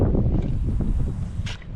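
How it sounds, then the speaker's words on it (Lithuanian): Gusty wind blows over a lake during boating, a rough low rumble buffeting the microphone with a brief brighter gust near the end. "Va, šiek tiek vėjas nurimo, momentais užeina, momentais praeina"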